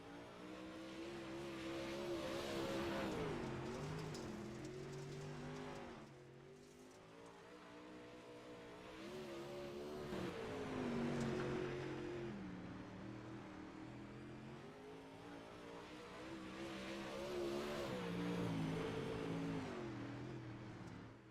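A race car, the number 12 car, running a qualifying lap at a GSRA event, engine rising and falling in three long swells as it passes, fairly distant with faint tire noise.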